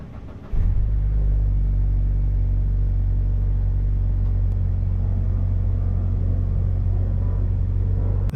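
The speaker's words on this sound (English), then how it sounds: "still cold enough for me to call it a cold start" A Mazda compact SUV engine turns over and catches in a cold start on a chilly morning of about 30 degrees, then settles into a loud, steady low idle rumble close by.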